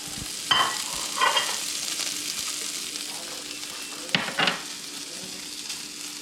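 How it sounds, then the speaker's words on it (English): Guanciale sizzles in a pan for Amatriciana, a steady frying hiss with a few bursts of stirring scrapes and clatters. "First, guanciale goes in."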